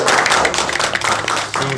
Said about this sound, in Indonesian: Kita berikan tepuk tangan yang super